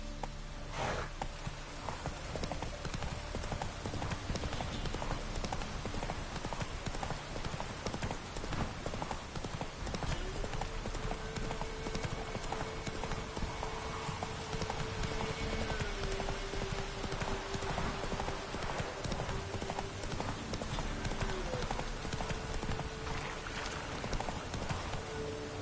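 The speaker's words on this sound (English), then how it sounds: "Run, Roach." Hooves of a horse in a video game clop steadily at a gallop throughout, close and continuous, with a faint rain-like hiss and an occasional whinny in the background.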